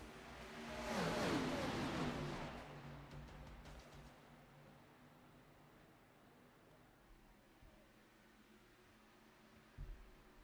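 Race cars roaring off the start at Indianapolis in the iRacing simulator, a dense engine surge swelling in the first few seconds and then fading into a steady distant drone, with no one talking.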